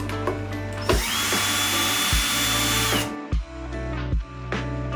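A power drill backs two screws out of a Onewheel foot pad: a short whir, then one long sustained run of about two seconds, followed by several quick bursts of the motor, close and loud.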